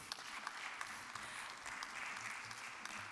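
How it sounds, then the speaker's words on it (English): Audience at the International Vienna Energy and Climate Forum applauding a speaker, a steady wash of many hands clapping, fairly faint and continuous throughout. "Please, a round of applause for her as she makes way."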